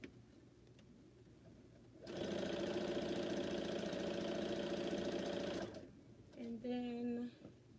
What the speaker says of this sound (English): I think I'm sewing pieces onto here